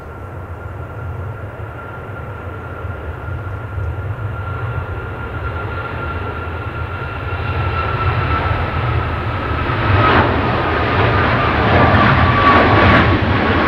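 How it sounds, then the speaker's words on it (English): A Boeing 737 MAX 8 jet airliner at Manchester Airport produces a steady jet engine roar with a whining tone that grows louder over the stretch, near and continuous, with no talk. "this one is a two-week 737 MAX 8 going to Hurghada."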